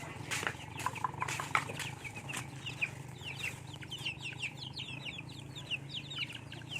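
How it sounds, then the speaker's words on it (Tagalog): Chickens cluck and chirp continuously at close range in a farmyard, with a steady low hum in the background. "Malaki na yung manok natin, Jack."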